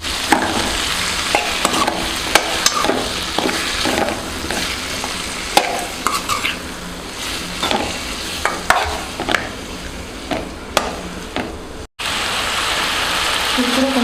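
Four chopped medium tomatoes sizzle in a pan for fish curry, a steady frying hiss broken by repeated scraping and clinking stirs of a utensil against the pan.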